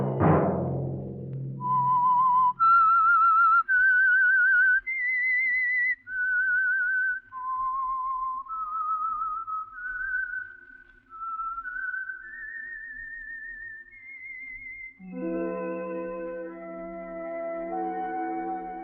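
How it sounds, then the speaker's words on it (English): A whistled theme signaling the Signal Oil radio program The Whistler: a clear, loud solo melody of sustained rising and falling notes, ending with a fuller orchestral chord. "Let that whistle be your signal for the Signal Oil program, The Whistler, each Monday at 8."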